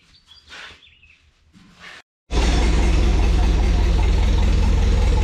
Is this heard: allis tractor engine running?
yes